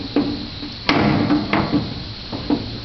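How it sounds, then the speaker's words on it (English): Metal headlight bucket being fitted on an Opel GT, giving a series of about five sharp knocks and taps at uneven intervals, close and fairly loud, with no talk. "So I put the headlight bucket in"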